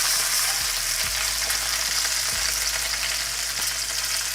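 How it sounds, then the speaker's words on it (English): Potatoes and corn sear in a hot pan with a steady broadband sizzle throughout, loud and close, with a few soft stirring knocks and scrapes. "We're going to get a nice sear in there"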